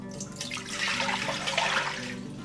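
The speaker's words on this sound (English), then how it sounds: "Okay, to a pot, we're gonna add some water." Water runs steadily from a tap into a cooking pot for a few seconds, a close, continuous splashing pour with no talking.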